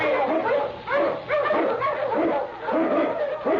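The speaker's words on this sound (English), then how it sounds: "Up, King! Up, you husky!" A husky sled dog barks and yips in an old-time radio drama, a run of short, close, excited bow-wows and whimpering yelps at a lively, uneven rhythm.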